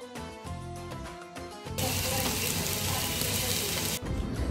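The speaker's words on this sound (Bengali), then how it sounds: "আর এখন হচ্ছে আমরা এগুলো ফ্রাই করবো।" Chicken tikka kathi kebabs hit hot oil and break into a loud, steady, hissing sizzle that fills the rest of the moment after a brief stretch of other sound at the start.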